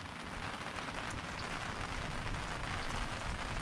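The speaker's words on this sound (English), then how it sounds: "when it's raining like today, I'll probably just do it under the tarp" Steady rain pattering on a camp tarp, a dense, even hiss of drops continuing without pause, fairly faint and close, with no voices.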